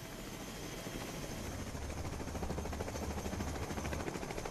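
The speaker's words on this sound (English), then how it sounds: "boards Marine One for the trip into Manhattan" Marine One presidential helicopter and accompanying choppers fly toward Manhattan, a steady low rotor drone with a faint pulsing beat, continuous throughout with no talk.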